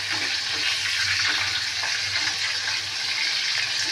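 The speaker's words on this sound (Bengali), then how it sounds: "এবার এই তেলেতে দিয়ে দেবো আমি চিংড়ি।" Prawns marinated in salt, turmeric and Kashmiri chilli drop into hot oil in a wok, giving a loud, steady, dense hiss of frying that holds evenly throughout with no voices.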